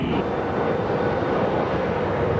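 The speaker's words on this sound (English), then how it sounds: "The aircraft are launched day and night." Jet aircraft launching from an aircraft carrier deck at sea, a loud, steady broadband roar that holds for the whole moment with no break.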